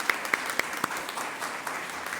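A church congregation on a Sunday service applauds a newly married couple, with steady clapping and a few sharper, louder claps standing out early on.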